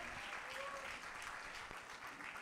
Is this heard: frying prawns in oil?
no